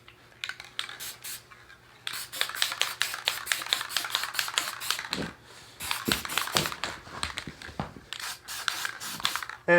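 A spray paint can fires a rapid series of short, sharp hissing bursts, some clustered and some spaced by brief pauses, close to the listener with no talking.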